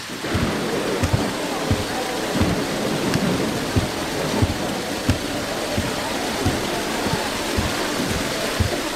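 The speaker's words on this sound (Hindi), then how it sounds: "तुम तो बारिश को देखो" Steady heavy rain hisses throughout, with dense patters and occasional louder drips, a full wash of downpour with no voices.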